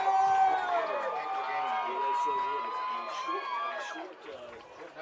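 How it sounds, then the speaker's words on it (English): A high school football crowd on the near side cheers and whoops during a Bluefield versus Pikeview game, a broad roar heard at a distance under a commentator's voice. "Crowd really pumped up on the near side."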